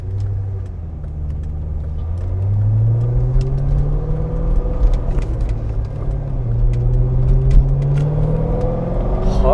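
A 2007 Chevrolet Corvette Z06 with a six-speed manual, heard from inside while driving, its engine rumbling loudly and steadily and rising and falling in pitch as it accelerates.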